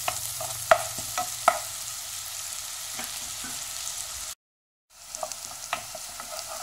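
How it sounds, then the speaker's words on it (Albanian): Green onion tops sautéing in butter in a pan for nettle soup, a steady sizzle with occasional stirring scrapes. A brief drop to silence comes partway through, then the frying resumes. "Dhe i kaordisim deri sa të ulen."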